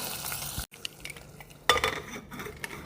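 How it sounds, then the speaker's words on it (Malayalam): Tempering poured into mango pulisseri curry in a kitchen pot, giving a sudden close sizzle that crackles and fades, with a brief utensil clink and stirring noises around it. "കറിയിലേക്ക് താളിപ്പ് ചേർത്ത് കൊടുക്കാം."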